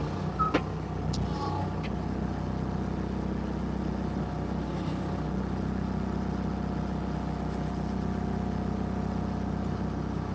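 A skid steer engine runs steadily at idle with a constant low mechanical drone, close by and moderately loud, with a brief clatter near the start.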